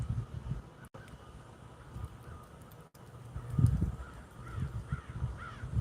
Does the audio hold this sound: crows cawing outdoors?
yes